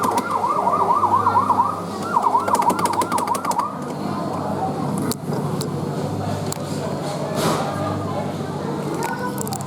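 Falgas 4S fire truck kiddie ride sounding its electronic wailing siren effect, loud and close, rising and falling in repeated sweeps for the first few seconds, then fading under busy indoor background noise with clatter.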